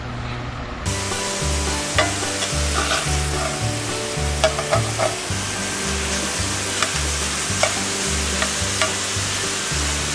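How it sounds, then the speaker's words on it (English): Loose pork sausage browning in a pan gives a loud, continuous sizzle close by, with occasional pops and crackles and no voices. "First, brown your pork sausage real good."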